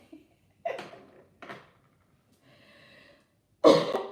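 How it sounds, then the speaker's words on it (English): Throat-clearing coughs from a person struggling to clear their throat, with two short harsh bursts near the start, a faint rough rasp mid-way, and a louder forceful burst at the end. "Can't clear my throat."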